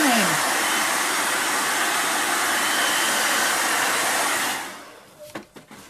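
A hair dryer blows steadily and loudly while drying a painted stencil, a constant whooshing roar that cuts off near the end, followed by a few soft handling clicks.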